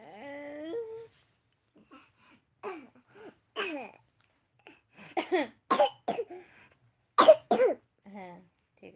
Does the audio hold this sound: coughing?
yes